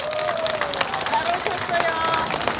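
An audience at a political podcast event applauds and claps steadily over a general murmur of crowd noise.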